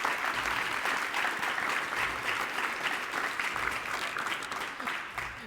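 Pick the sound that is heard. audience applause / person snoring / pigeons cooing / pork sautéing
audience applause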